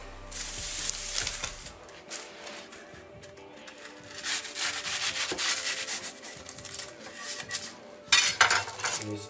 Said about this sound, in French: on va commencer à couper notre millefeuille